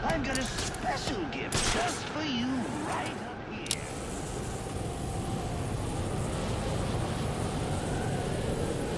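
Rapid bursts of gunfire from the Batman: Arkham Origins video game crackle densely over a steady background din, with a voice speaking through part of it.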